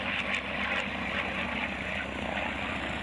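Old propeller-driven warbird airplanes fly by at a Father's Day pancake breakfast event, giving a steady, full engine drone that holds through the whole stretch without a clear peak.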